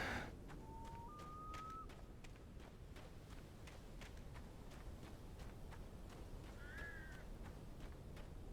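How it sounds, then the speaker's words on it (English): Crows caw in the Alan Wake video game, two or three distinct calls sounding over a steady, dense background of rustling ambience. "Birds."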